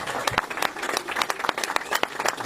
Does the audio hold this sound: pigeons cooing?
no